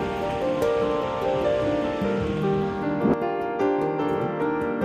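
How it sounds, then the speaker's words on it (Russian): Rushing water from the cascade of waterfalls at Great Falls on the Missouri River, a dense, steady roar that runs unbroken throughout, with faint tonal hums and a few clicks over it. "обалденные водопады, почти как Ниагара. И тут каскад водопадов."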